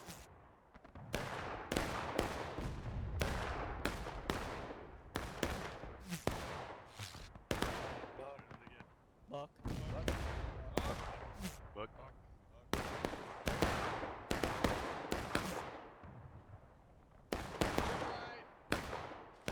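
Repeated musket volleys ring out in War of Rights during a large 250-player battle at Piper Farm, sharp overlapping cracks bursting in dense clusters throughout, loud and close with distant shots rolling between them.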